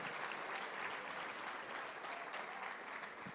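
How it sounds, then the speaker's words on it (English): An audience at a survivors' assistance program event gives a round of applause, a dense, even patter of many hands clapping throughout, at a moderate distance, alone without speech. "let's hear a round of applause"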